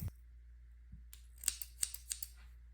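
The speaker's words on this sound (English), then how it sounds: "Alright, and these are our scissors." Scissors for leatherworking snip several times in quick succession, crisp metallic clicks close by in an otherwise quiet room.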